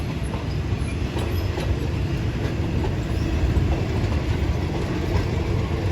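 A Thai northern-line express train, Bangkok to Chiang Mai, hauled by an Alsthom locomotive, rumbles steadily along the rails, a continuous rolling clatter with faint wheel clicks, loud and close, with no voices.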